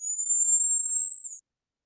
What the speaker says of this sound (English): we focused on a specific one called the phi call, which is a high-pitched call that sounds like this